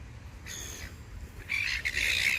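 Seagulls sitting near a port with a ship in view squawk in two bursts of harsh, nearby calls, a shorter one early and a longer, louder run at the end over low outdoor rumble.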